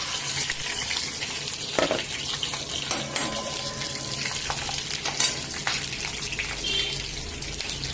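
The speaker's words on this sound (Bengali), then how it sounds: "এই পাঁচফোড়ন শুকনো লঙ্কা আর তেজপাতা দিয়েছি একটা কাঁচা লঙ্কা দিলাম দিয়ে এটা এখন ফোড়ন দিয়ে" Panch phoron, dried red chilli and bay leaf crackle and sizzle in hot oil for a Bengali tempering, a steady close frying hiss with a few sharper pops and a brief clatter, no voices.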